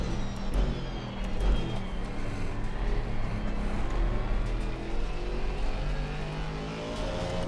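An Aston Martin GT4 race car in a racing video game holds a steady, close engine drone with shifting revs throughout, with no talk over it.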